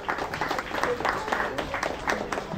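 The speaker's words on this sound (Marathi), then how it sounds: "जरा टाळ्या जोरात होते जरा" Faint audience applause at a cooking competition's prize announcement, a steady patter of hands mixed with a speaking voice.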